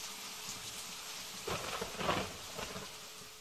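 Storm sound effect for a Russian-language audiobook: steady rain hisses throughout, with low rumbles of thunder swelling around the middle and again near the end, moderately loud and with no voices.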